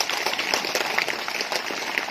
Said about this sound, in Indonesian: Untuk itu mari kita tepuk tangan.